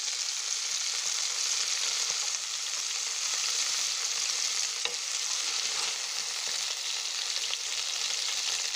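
Chicken shashlik frying in a pan, a dense, steady close-up sizzle that holds evenly throughout with no talking.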